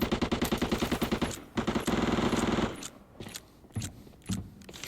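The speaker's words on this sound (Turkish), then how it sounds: "her yerden silah sesleri geliyor" Loud automatic gunfire rattles in quick bursts, then thins into scattered single shots and short echoing pops in the video game Arena Breakout, on a mine map.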